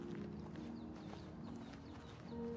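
Horse hooves clip-clopping in the video game Oblivion Remastered, a steady walking rhythm of light hoof falls over a quiet, droning ambient background.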